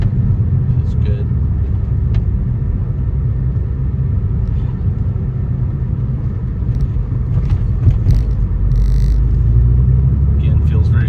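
A 1993 Porsche 964 Carrera Cabriolet moves at low speed through gear changes, giving a continuous heavy engine and road rumble heard from inside the cabin, with a voice talking over it.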